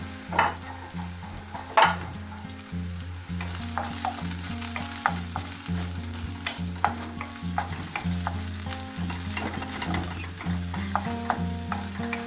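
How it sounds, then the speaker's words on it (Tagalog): Garlic frying in olive oil in a pan while being stirred, with a loud continuous sizzle and repeated scraping and clinking of the utensil against the pan, no voices. "At ilagay na natin ang ating bawang"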